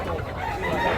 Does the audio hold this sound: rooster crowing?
yes